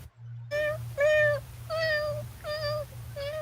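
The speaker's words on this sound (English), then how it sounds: "Oh, fine, you blasted cat." A cat meows five times in a row with drawn-out harmonic calls, close and fairly loud, over a steady low hum in an animated comedy scene.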